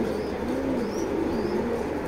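Pigeons, a large racer pair, cooing nearby in a soft, low, rolling warble that continues throughout the short stretch, steady and close without talk.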